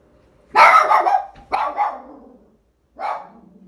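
A dog barks three times nearby, loud and sharp, with pauses between each bark and otherwise quiet surroundings.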